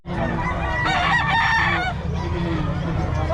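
Rooster crowing at a busy chicken market in Bocaue, a loud nearby crow with rising and falling harmonics over a steady crowd murmur and other fowl.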